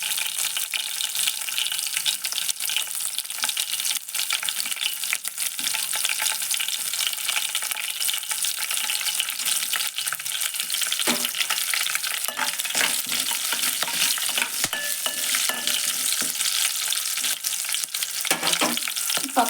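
Green chillies frying in a pan give a steady, loud sizzle and crackle that runs unbroken throughout, with faint stirring scrapes and no voices.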